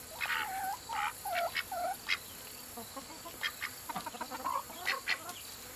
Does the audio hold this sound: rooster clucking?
yes